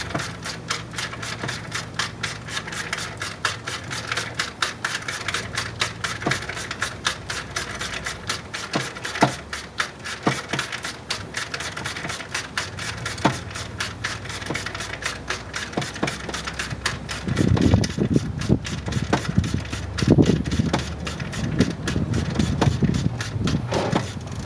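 Steady mechanical clicking and ratcheting from a wrench turning the serpentine belt tensioner pulley on a 1998 Jeep Wrangler TJ, close by with a continuous rhythmic tick, growing louder with heavier clunks toward the end.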